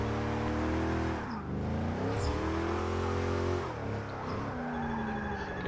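GMC Vandura van engine in Forza 6, revving hard while drifting, rising and falling in pitch with several throttle swells and a tire squeal, loud and continuous with no voices.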